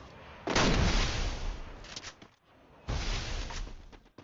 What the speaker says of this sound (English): Alright, we ready for another airstrike?